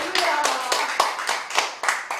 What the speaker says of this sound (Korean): 박수 한번 쳐주시오